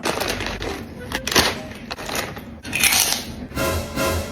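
Crisp, crunchy bites of spicy fried squid, several sharp crunches in a row, close by, with faint background noise between chews.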